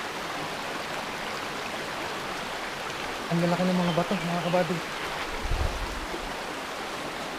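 A clear river runs over large rocks at Malibayo in Batangas City, giving a steady, close rushing wash throughout while someone speaks briefly over it.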